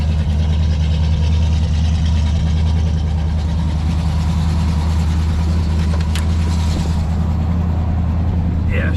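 An LS-swapped 1994 Chevy Silverado idles on choke with a hole in one header, giving a loud, steady, close low rumble with a ticking exhaust-leak edge throughout; someone talks over it.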